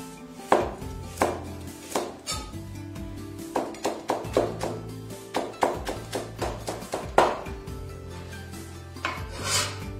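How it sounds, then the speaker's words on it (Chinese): Knife chopping carrot into thin strips on a board, a steady series of sharp close taps in quick bursts, alone without talk. "胡萝卜切丝"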